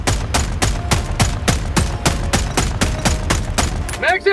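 In Helldivers 2, the Dominator gun fires at the exposed vents of a turret, sending out a steady, evenly spaced stream of loud, punchy shots, about four per second, with a short trailing sound at the end.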